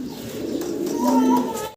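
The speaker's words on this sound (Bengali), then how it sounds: "দেশি বোম্বাই কবুতর" Domestic Bombay pigeons coo in a low, steady warble, close and fairly loud, running continuously for a couple of seconds before stopping abruptly.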